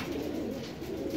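A flock of jalali pigeons coos softly in a brief, faint burst of low, murmuring calls.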